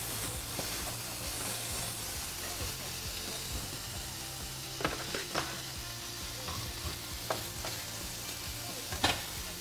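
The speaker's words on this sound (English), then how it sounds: "I'm just reheating it." Pre-cooked turkey sausage reheats in a pan, a soft steady sizzle and hiss with a few brief clicks and scrapes, quiet and close.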